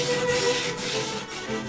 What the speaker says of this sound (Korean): 가죽의 표면을 부드럽게 만들기 위해 고운 입자의 사포로 사포질을 해준다.